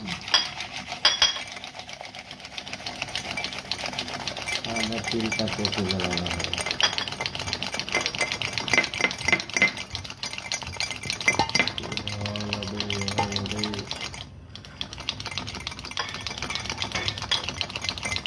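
Instant coffee, sugar and a little water are beaten in a cup with rapid, continuous clinking and scraping, heard up close with brief pauses in between.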